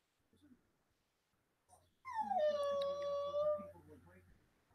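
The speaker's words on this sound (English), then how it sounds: "Oh, you poor puppy." A puppy gives a drawn-out, high whine that bends downward and fades, following a few faint soft sounds over a low hum, fairly quiet and close.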